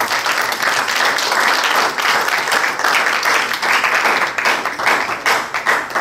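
Church congregation applauding together, a dense, steady wash of clapping that stays loud and close for the whole stretch with no talk over it.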